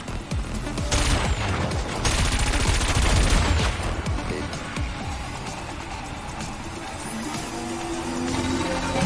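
Rockets and cannon fire in a racing combat video game, with dense bursts of rapid gunfire-like blasts and booms that stay loud and continuous for several seconds, alone without talk.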